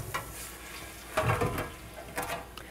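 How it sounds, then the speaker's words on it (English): A large spoon scrapes browned fond from the bottom of a pan during deglazing for au jus gravy over low heat, a few short scraping strokes over a soft sizzle, close and fairly quiet, with no talking. "I'm going to take a large spoon and scrape the fond from the bottom"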